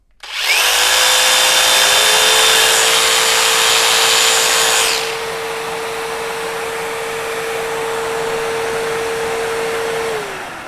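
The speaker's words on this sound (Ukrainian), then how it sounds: "Ми вімкнемо в Boost, він запустився, і ми вмикаємо наш лобзик." A jigsaw cuts over a cordless vacuum extractor running in Boost mode: a loud, steady whine and buzzing saw sound for the first five seconds. The saw then stops and the vacuum keeps humming evenly on its own.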